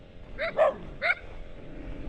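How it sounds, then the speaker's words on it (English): Dogs barking in a rural province setting: three short sharp barks in quick succession, moderately close, followed by quiet outdoor ambience. "Lots of dogs again, sneaking up behind me."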